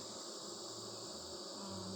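Honey bees hum steadily around an opened backyard hive during an inspection, a soft continuous buzz close by with no talking.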